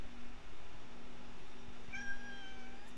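A cat meows near the end, a short drawn-out cry over a steady low electrical hum indoors during an amplifier kit build.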